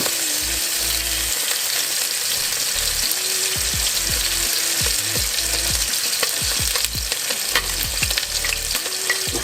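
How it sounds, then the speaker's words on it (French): Chicken pieces frying one at a time in a small cooking pot for a Senegalese thieb poulet, giving a loud, continuous sizzle with occasional stirring scrapes and bubbling pops throughout. "mais on va faire griller le poulet"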